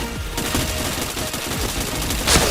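Rapid automatic gunfire from a video game, a dense continuous rattle of shots with a sharper burst near the end, loud and close with no talking.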